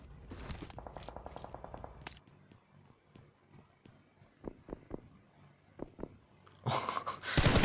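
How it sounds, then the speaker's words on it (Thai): Scattered sharp gunshots in PUBG Mobile, fired inside a house, some single and some in quick bursts, with a loud rapid burst at the end. "เขายิงในบ้านนะทุกคน"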